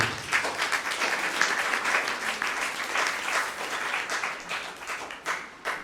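An audience at a Fondation Kouyo community event in Port-Bouët applauds the foundation: steady, full crowd clapping that holds for several seconds, then thins and fades out.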